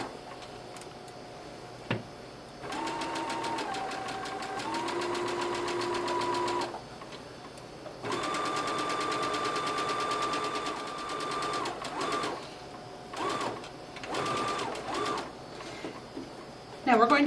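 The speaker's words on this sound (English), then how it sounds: "going to stitch it down with a straight stitch" A home sewing machine runs a straight stitch along the hem of an A-line dress in short bursts of rapid, rhythmic needle clatter with pauses between runs, while someone talks over it.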